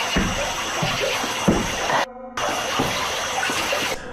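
Water rushes and splashes loudly beneath a bridge at night, a continuous gushing wash broken by a brief gap of near-silence.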